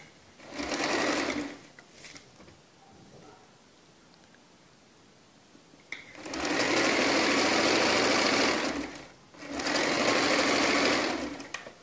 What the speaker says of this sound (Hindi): ऐसे ही हमें दूसरी तरफ सिलाई लगानी है।